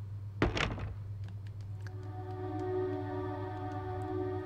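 A door opens in a video game with a single dull thunk, followed by a low sustained hum and a steady tonal drone that hangs on afterward.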